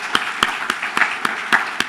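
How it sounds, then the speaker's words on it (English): Applause from a conference town-hall audience, steady and moderately loud, with distinct sharper claps standing out at a regular pace throughout. "And we applaud all of them."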